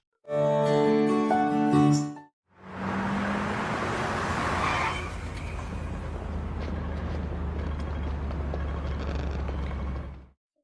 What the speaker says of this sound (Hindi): आज कितनी ज्यादा ट्रैफिक है